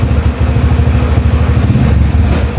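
A 1994 Honda Tiger motorcycle runs close and loud, a steady engine throb with a rapid rhythmic clatter from the chain as it is shifted into first gear.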